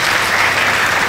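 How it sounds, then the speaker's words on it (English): Steady, dense applause from an audience at a valedictory lecture fills the space evenly, loud and close, with no break in the clapping. "Please let's give her a resounding round of applause again for that wonderful speech"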